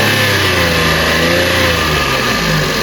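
Subaru Justy engine held at a raised idle with foam wedged in to lift the revs: a loud, close, steady mechanical drone that stays even throughout, with no voices.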